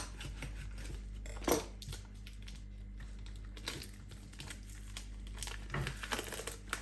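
Plastic packaging around a frozen turkey breast crinkles and crackles as it is pulled open, close and fairly quiet, with scattered sharper rustles and a louder crunch partway through.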